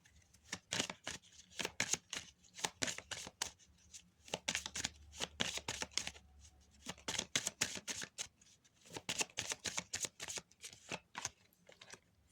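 Tarot or oracle cards shuffled by hand for a reading, a long run of crisp riffling bursts in quick irregular rhythm with short pauses between, close and fairly quiet, no voices.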